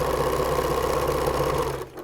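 Sewing machine stitching a T-shirt quilt block, a loud continuous motor hum with rapid needle rhythm that winds down and stops near the end.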